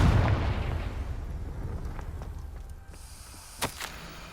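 Confringo blasting spell cast in the video game Hogwarts Legacy, a loud booming burst that rumbles and fades over a few seconds, followed by a couple of sharp cracks.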